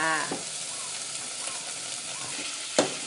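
Pork stir-frying in a pan sizzles steadily up close, with soft scraping stirs and a sharp clatter of a utensil near the end.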